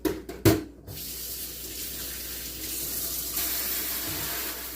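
A few sharp clinks at the start, then a steady stream of tap water runs continuously over a dish being rinsed, close by and moderately loud, with no talking.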